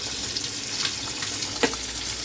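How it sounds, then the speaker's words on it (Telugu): Seelavathi fish curry bubbles in a covered pot, a steady close simmering hiss dotted with small pops and gurgles, no voices. "చేపల పులుసు మరుగుతుంది."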